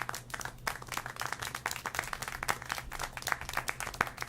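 A crowd claps in the video game Syberia: The World Before, a dense, steady patter of applause at moderate level lasting several seconds, with no speech over it.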